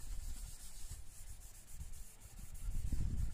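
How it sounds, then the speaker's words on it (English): Cloth rubbing a car headlight lens during a headlight restoration cleaning, a soft, continuous scrubbing swish in quick back-and-forth strokes close up, quiet and with no voices. "go ahead and just start cleaning this headlight"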